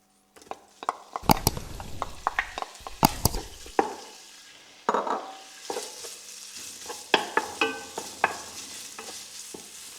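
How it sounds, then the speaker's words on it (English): Bacon frying in a pan over high heat, a busy close sizzle broken by repeated clattering stirs and scrapes of a utensil against the pan, with no talk. "we're going to let that fry off till it turns that sort of paler pink"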